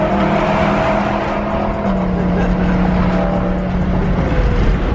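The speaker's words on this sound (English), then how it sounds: "I forgot how loud this freaking car is" A BMW E46 M3 drift car roars loudly from the cabin while driving, a steady dense engine drone with a low sustained tone and no speech.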